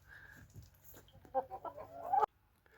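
A few chickens cluck nearby in short bursts, a clear run of clucks building before stopping abruptly.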